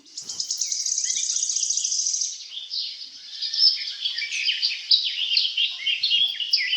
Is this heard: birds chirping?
yes